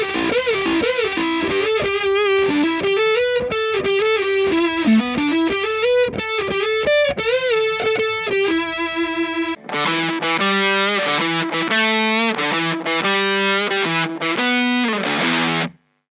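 A Les Paul electric guitar plays a fuzz-toned solo through an Automatone with a touch of spring reverb from a Golden Reverberator, bending lines followed by choppy, distorted chord-like stabs, loud and upfront with no voices.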